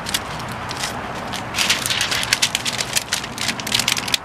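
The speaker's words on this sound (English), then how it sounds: "So it's raining right now, light rain." Light rain falling outdoors, a soft continuous patter that grows busier and crackly with scattered close drops midway through.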